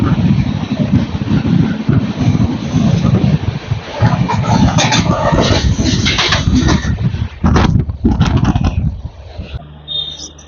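Saharsa Superfast Express (train 20933, Udhna–Danapur) rushing past at close range, a loud continuous roar and rattle of wagons with a few sharper clanks near the end, heard from a rail journey near Ara Junction.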